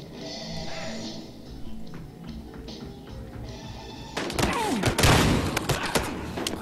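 Gunfire in the Battlefield Hardline video game: a burst of sharp shots and thuds breaks out over a dense background of game sound and music, loud and close in the final seconds.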